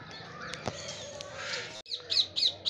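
Parrots call in Lake View Park, Islamabad, a few sharp, shrill squawks bursting out in quick succession near the end after a quieter outdoor stretch.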